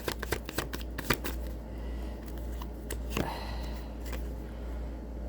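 Oracle cards being shuffled by hand, a run of crisp riffling flicks and soft slides close by, steady and quiet, with no speech.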